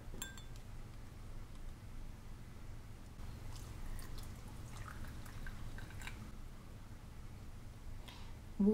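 Water trickles and drips into wine glasses for a tea tasting, a faint intermittent pouring with light clinks of glass, quiet and close in a calm room.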